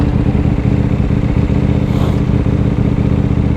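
A 2020 KTM Duke 890R's engine thrums loud and steady under the rider, a throbbing motorcycle drone with a slight rise in revs around the middle.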